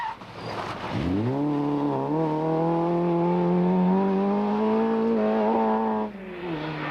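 A 1990 Honda Civic rally car engine in the Circuit of Ireland Rally revs hard and climbs in pitch through a long sustained pull, close and loud, then the note drops off near the end.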